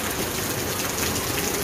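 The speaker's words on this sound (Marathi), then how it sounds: "मस्त असा पाऊस." Steady rain pours down, a dense continuous hiss close by with no voices over it.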